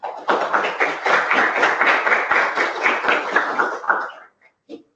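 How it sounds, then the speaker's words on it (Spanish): An audience applauds a speaker at a lecture, a dense burst of clapping that lasts about four seconds and then stops abruptly, followed by a single faint knock. "le damos un fuerte aplauso a nuestro speaker, Dardo Goyeneche."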